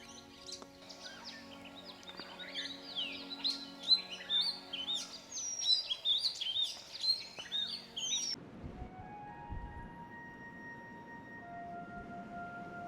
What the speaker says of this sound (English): There's an oriental magpie robin here. Such a beautiful bird. It's calling.